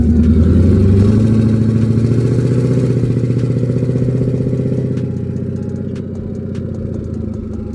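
A car engine with its exhaust dumps open, after fitting a new exhaust, revs loudly and close by in a rough, clattering drone that holds steady, then eases slightly over the last few seconds.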